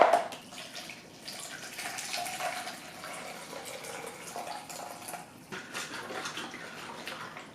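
Liquid pours steadily into a 900 ml bottle for homemade soda, a continuous splashing trickle with a short break near the end before it resumes, close and fairly quiet.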